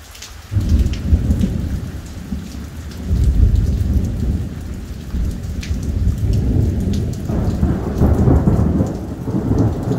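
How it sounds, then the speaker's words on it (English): Heavy rain pours steadily as thunder rumbles low and long during a coastal thunderstorm near Cefalù, loud and enveloping with no voices. "the leading edge of the storm has moved over us and out to, out to sea"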